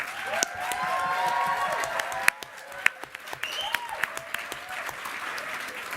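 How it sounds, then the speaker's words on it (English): Audience applause for student-election debate candidates at a university society question time night, a steady crowd of clapping lasting several seconds with occasional louder claps and some murmured voices underneath. "give a big round of applause for the candidates, please"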